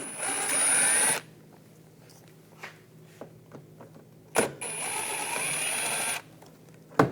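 A power driver with a T15 socket whirs in two sustained bursts, taking trim screws out near the front bumper of a 2014-2018 GMC Sierra, close and loud, with quiet clicks and clatter between the runs.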